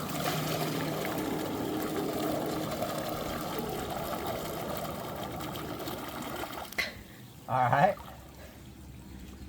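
A Wybot S2 solar robot pool cleaner sinks into the pool with a steady bubbling, gurgling rush as air escapes, then a short louder gurgle; someone speaks briefly.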